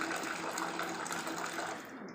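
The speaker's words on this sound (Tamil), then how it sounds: "ஆற விட்டு நாலு அஞ்சு டைம் வந்து நல்லா வாஷ் பண்ணிடணும்" Water sloshes and swirls steadily as green gram lentils are rinsed, a continuous close rinsing and splashing sound at low volume that fades slightly at the end.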